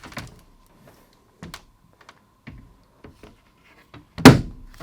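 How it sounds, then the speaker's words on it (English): An LG wall mount bracket for a G3 OLED TV being pushed back into place, a series of sparse taps and knocks ending in one sharp, louder click near the end. "it should just push back and make a click noise"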